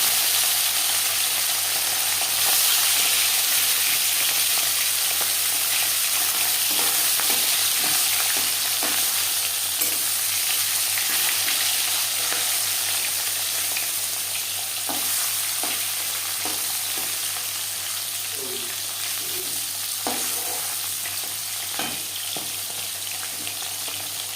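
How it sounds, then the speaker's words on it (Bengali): Marinated parshe fish frying in four spoons of hot refined oil, a steady loud sizzle throughout with occasional stirring clicks and spatters, no talking. "চার চামচ রিফাইন্ড অয়েল গরম করে নিয়েছি এবার দিয়ে দেবো ম্যারিনেট করে রাখা মাছ"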